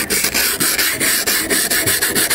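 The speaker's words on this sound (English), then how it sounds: "I have to find my ice scraper." Ice scraper scraping frost off a car window on a cold fall morning, rapid rhythmic rasping strokes repeated close up and loud, about ten quick scrapes.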